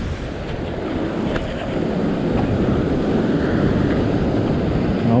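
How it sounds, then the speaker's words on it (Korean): Ocean waves wash over sea rocks during shore fishing, a loud rolling surf with heavy wind buffeting the microphone, rising slightly as a wave comes over. "여기도 파도가 넘어오니까"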